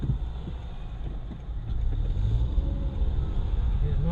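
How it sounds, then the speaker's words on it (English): Road traffic in Thimphu, Bhutan: a low engine rumble from passing cars swells as a vehicle accelerates nearby, with faint voices in the background. "So here, this is the traffic in Bhutan."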